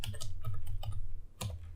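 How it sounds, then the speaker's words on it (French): Fingers type on a computer keyboard, a quick irregular run of close, crisp key clicks and thumps with a short pause before a final burst; no speech. "tout ce que je vais taper là"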